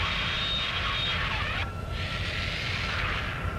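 Jet aircraft in Ace Combat 7 roaring steadily and loudly, a continuous engine drone with a brief dip midway, no talk.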